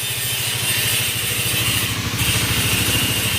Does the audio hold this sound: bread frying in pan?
no